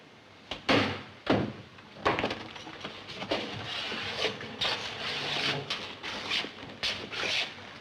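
A door is opened at the end of a hallway walk in a 1957 courtroom drama re-enactment, with a few sharp knocks and clatters over a quiet, shuffling background.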